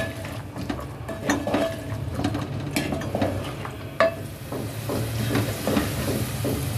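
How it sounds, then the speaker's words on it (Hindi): Green peas frying with spices and softened tomato in a pan for a matar aloo curry, a steady sizzle with spoon scrapes and stirring clatter throughout, close and moderately loud. "मटरों को हम 3 से 4 मिनट तक इसके साथ मसाले के साथ भूनेंगे"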